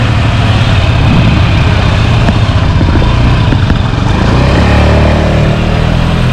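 A 49cc Honda Scoopy scooter engine runs close by, a loud, buzzy, continuous drone that stays steady throughout, with no talk over it.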